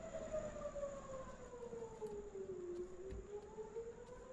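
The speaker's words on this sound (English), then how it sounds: "More air raid sirens sounding here on our cameras." Air raid sirens over Tehran, Iran during airstrikes wail in slow falling and rising sweeps, distant and faint against a steady background hum.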